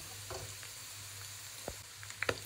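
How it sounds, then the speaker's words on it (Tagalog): Meat sautéing in a pan for pancit bam-i gives a steady close sizzle and frying hiss, with a few light stirring clatters near the end and no talk. "So, nagisa ko na yung karne."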